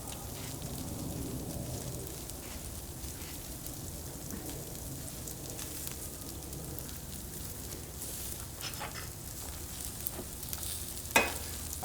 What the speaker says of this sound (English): now that we flipped, we're going to baste with more butter